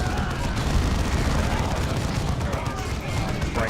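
Cannon barrage explosions in the video game Dawn of War II form a dense, continuous rumble of booms and blasts, loud and unbroken across the whole stretch.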